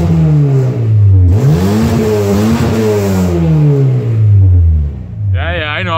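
An old German car engine revs close by indoors, its pitch rising and falling through several loud sweeps, with a brief higher-pitched rev at the end.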